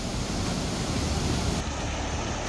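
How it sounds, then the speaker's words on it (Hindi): Floodwater rushing from a dam during monsoon flooding in Gujarat, a dense, steady roar of water filling the whole clip with no voices. "ऐसे में डैम का पानी सब कुछ बहा ले जाने के लिए तैयार नजर आ रहा है।"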